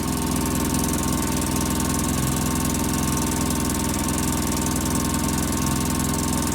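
A 2005 Polaris Ranger XP 700 UTV engine idling too high on a cold start, a steady, loud mechanical drone with constant knocking rhythm and no pauses throughout.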